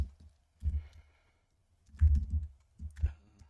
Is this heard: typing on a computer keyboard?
yes